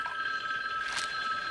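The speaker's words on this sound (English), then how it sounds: "Phone's been ringing off the hook, Burl." Telephone ringing in a sheriff's department office, a steady sustained electronic ring, clear and close with no talk.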